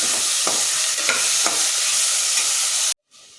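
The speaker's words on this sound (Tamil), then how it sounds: "வதங்கிச்சு தக்காளியை போட்டுக்கிறேன் தக்காளி நல்லா மசிகிற அளவுக்கு வதங்கட்டும்" Tomatoes sauté in a pan for tomato rice with a loud, continuous sizzle, while a spoon stirs and scrapes at a few points, close up, before the sound cuts off abruptly.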